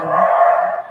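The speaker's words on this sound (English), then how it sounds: "Sorry, that's my dog." A pet dog lets out a single loud, drawn-out bark or yelp lasting under a second, close by, with no speech over it.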